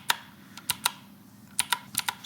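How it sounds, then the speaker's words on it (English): Sharp, clicky keystrokes on an IQUNIX mechanical keyboard with blue switches, about ten distinct presses in irregular bursts, close and clear against a quiet background. "You can hear and feel clear when the keystroke is registered."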